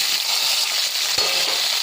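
Boiled gati kochu taro sizzles steadily in hot white oil in a kadai, a close, continuous hiss with a single soft knock partway through.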